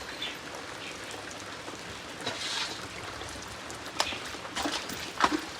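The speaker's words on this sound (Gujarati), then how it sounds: "હવે વરસાદ ચાલુ છે બંધ જ રહેતો નહીં વરસાદ" Steady rain falls outdoors near a farm cattle shed, a constant hiss of drops with a few louder splashes and patters on nearby surfaces.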